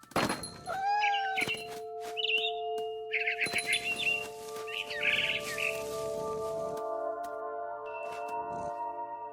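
Cat meows from the player character in the video game What Remains of Edith Finch, a few short calls over steady game music with chirping bird sounds and rustling effects.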